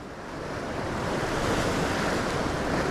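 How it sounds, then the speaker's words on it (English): Ocean surf washes steadily against the shore at dawn after big swells, a continuous broadband roar that builds slightly and holds, with some wind noise and no talking. "We've had big swells."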